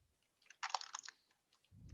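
Brief, quiet burst of computer-keyboard typing, a handful of quick close keystrokes during a data-analysis session, followed by a soft low rumble.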